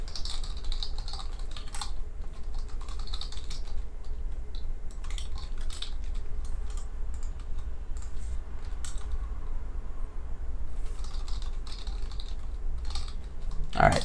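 Computer keyboard typing while writing Python-style code for an FT232 SPI bit-bang program, a steady run of quick close keystrokes in bursts with short pauses, alone without talk.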